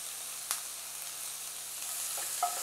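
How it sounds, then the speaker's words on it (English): Drained bacon sizzling in a frying pan with a little olive oil: a steady, soft crackle and hiss throughout, with a couple of brief sharper pops. "We've reintroduced the bacon into the pan"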